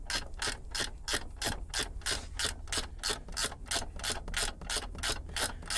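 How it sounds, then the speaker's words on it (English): A ratchet wrench loosens a fitting on a Cutlass Supreme G-body car, near the speedometer cable: a close, steady run of quick metallic clicks in even rhythm, about three per second, with no talk. "I gotta loosen this up to give me some more slack."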